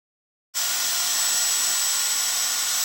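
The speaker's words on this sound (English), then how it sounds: "This first cut is to make the trim narrower so that it will fit into the" Power saw cutting an exterior window trim board kicks in abruptly after half a second of silence and runs at a loud, steady, high-pitched whine to the end.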